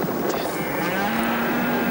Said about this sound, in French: Poussez-vous, les vaches.